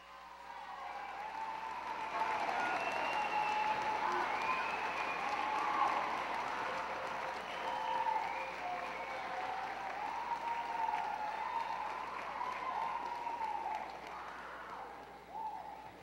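A large crowd at the closing ceremony of the 2018 Manitoba Games applauds volunteers with steady, dense clapping that holds loud and even for about sixteen seconds before thinning slightly at the end.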